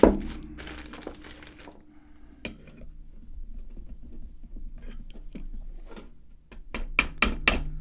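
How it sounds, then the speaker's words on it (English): A hammer taps on a Line 6 Echo Park delay pedal during a repair, giving scattered sharp knocks and clicks, with a quicker cluster of loud strikes near the end. "Who dares me to hit it with a hammer?"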